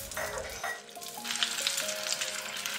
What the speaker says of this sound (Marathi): आणि आता मोहरी छान तडतडायला लागली की त्यात ऍड करून घ्यायचं जिरं